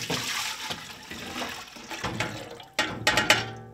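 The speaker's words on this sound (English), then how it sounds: "I'm gonna pour the fish broth back into the pot." Fish broth from yellowtail and mutton snapper heads is poured back into a soup pot, giving a close, splashing gush that starts and falls off in uneven surges and ends with a few bright spatters.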